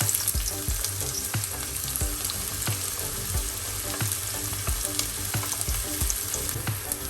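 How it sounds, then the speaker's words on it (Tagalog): Chopped onions sweating in oil in a frying pan, a steady close sizzle and crackle with small pops and occasional stirring scrapes, continuous throughout with no talking. "Onions in and let it sweat."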